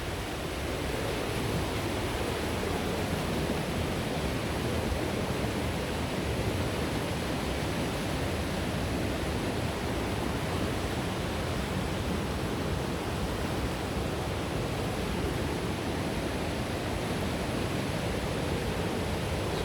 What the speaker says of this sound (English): So there's quite a rush of water there.